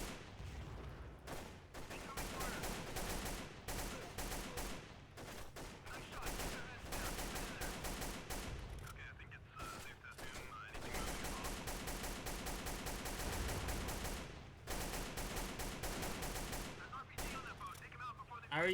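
Bursts of AK rifle fire ring out in the PC shooter Delta Force Xtreme 2, rapid repeated shots in clustered volleys with brief gaps, loud and close, over other game sounds.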